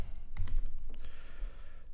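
Keystrokes on a computer keyboard entering a Linux nano command, a short burst of clicks then a few lighter taps, close and alone with no talk.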